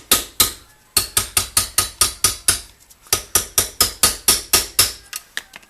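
A hammer strikes a chisel cutting across a Datsun truck kingpin in a rapid, steady run of about twenty sharp metallic blows, close and loud, with a brief pause between two bursts.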